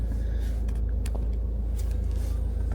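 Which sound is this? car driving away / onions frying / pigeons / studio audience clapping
car driving away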